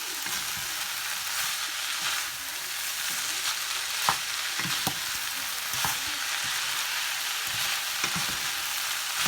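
Instant noodles stir-fried on high heat for a holy-basil noodle dish with century egg: a loud, continuous crackling sizzle with repeated clicks and scrapes of a spatula against the pan, close by and without talk.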